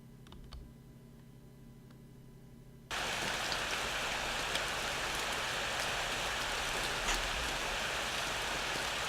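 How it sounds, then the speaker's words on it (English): Steady rain hiss in the Corpse Party video game sets in suddenly after a quiet stretch of low hum and a few faint clicks, then continues evenly at full level to the end without speech. "It's raining, huh?"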